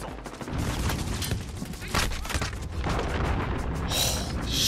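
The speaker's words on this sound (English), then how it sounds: "Enemy cruise missile." Cruise missile strikes hammer the ground in a shooter game, a dense barrage of heavy booms, cracking gunfire and rolling blasts that stays loud and continuous throughout.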